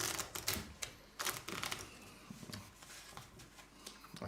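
A deck of playing cards riffles and snaps in quick bursts of crisp clicking, close and fairly quiet, with brief pauses between shuffles.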